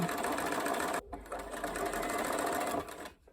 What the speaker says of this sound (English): I'm stitching about 3 millimeters away from the seam.